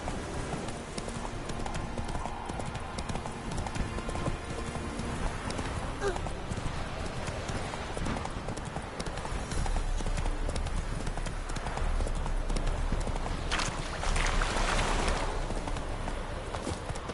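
Roach, a horse in The Witcher 3, walks with steady clip-clopping hooves close by, under a continuous dense wash of game ambience and music, with a brief whinny-like sound partway through.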